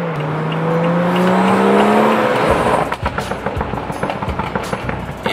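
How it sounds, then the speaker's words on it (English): A BMW with a Bootmod3 tune revs with a rising engine tone, then drops into a run of sharp, crackling exhaust burbles and pops, loud and close. "it sounds like a just legit burble"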